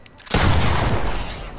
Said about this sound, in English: No, I missed every shot.